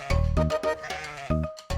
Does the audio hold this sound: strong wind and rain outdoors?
no